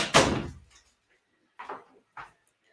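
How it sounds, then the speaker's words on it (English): A door opens with a loud close thump at the start, then two quieter clunks follow after a pause. "Let me open the door for Moon here."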